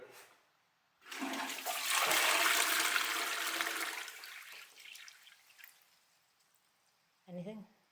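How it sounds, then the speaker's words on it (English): A newly installed ensuite toilet flushing for the first time: a loud rushing surge of water that gradually tapers into trickling refill, followed by a brief voice at the end. "this is the first flush of the ensuite toilet"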